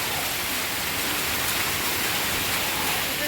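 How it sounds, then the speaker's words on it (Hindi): Heavy rainwater pours and gushes from street drains during a downpour, a loud, steady, unbroken rush of water with no pauses. "हर तरफ देखिए सारी नालियों से पानी कितनी तेज़ गिर रहा है"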